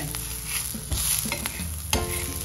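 Sesame seeds roasting with onions in a pan for a spicy chicken curry, giving a steady close sizzle with scraping stirs and a couple of sharper clanks from the utensil against the pan.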